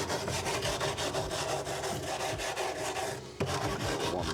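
Steady rhythmic rasping of a brush scrubbing the metal of a fuel tank before welding, close and continuous with fast back-and-forth strokes and a brief pause near the end, no voices.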